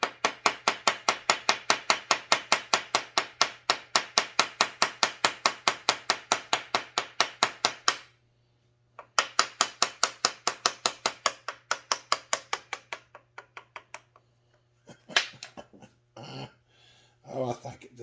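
A small hammer taps at a ring on a McCulloch 1-76 chainsaw in poor shape, giving rapid, evenly spaced metallic taps in two long runs, then a few scattered knocks over a low steady hum.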